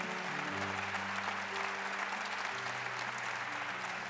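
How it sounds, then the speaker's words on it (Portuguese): A church congregation claps together in a dense, even round of applause, with sustained keyboard chords underneath and no clear voices. "levante suas mãos e aplauda o Senhor."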